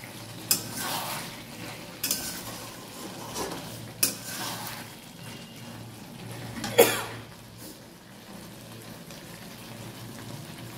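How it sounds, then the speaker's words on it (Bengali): Potato and cauliflower curry stirred and fried in a pan: a low, steady sizzle runs underneath while a spoon scrapes and knocks against the pan about four times at irregular intervals. "আরে আলু ফুলকপির তরকারি হচ্ছে।"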